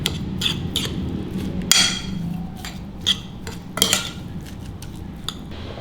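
A spoon scrapes and clinks against a bowl while egg, chopped celery leaves and seasoning are stirred together, a soft steady mixing with a few sharper taps on the rim, close and with no talking.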